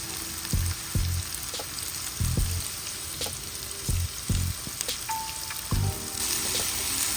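Garlic, onion, ginger and tomato sautéing in a hot pan, a steady close sizzle broken by repeated louder bursts of frying and stirring, with no talking.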